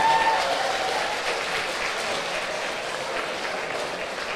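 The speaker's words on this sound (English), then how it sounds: "Okay, round of applause for that." Audience applause fills a hall at a British women's weightlifting competition, a steady wash of many hands clapping at moderate volume that continues evenly throughout without speech.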